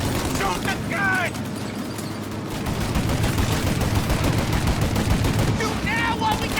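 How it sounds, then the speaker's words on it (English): Gunfire rattles through a Mafia Definitive Edition shootout, with rapid, continuous shots rolling over and over at steady loudness while a voice shouts briefly at the start and near the end. "Shoot out your gun when there's a break in the fire!"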